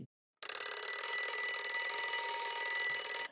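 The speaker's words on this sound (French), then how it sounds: "Comme à son habitude, elle se faisait sortir du lit par son réveil." An alarm clock rings for about three seconds after a short silence, a loud continuous metallic bell that cuts off abruptly, heard in a school object-theatre performance.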